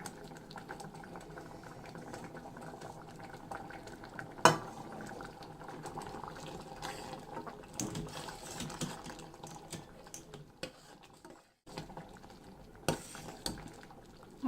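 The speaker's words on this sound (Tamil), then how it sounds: "சாம்பார் நல்லா கொதிச்சிருச்சு" Horse gram sambar bubbles at a rolling boil in a pot, a quiet, continuous pop and burble close by, with a few clinks of a utensil and one brief lull.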